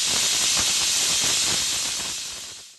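A pressure cooker cooking chicken curry releases steam in a loud, sustained hiss that holds steady before tapering off near the end, heard alone without voices.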